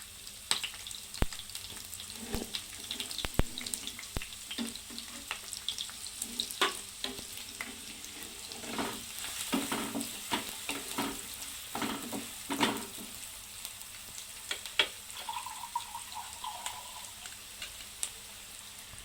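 Finely chopped onion sautés in a pan for a palak paneer dish, a steady soft sizzle with intermittent stirring scrapes and clinks throughout, close and moderately quiet, no talking.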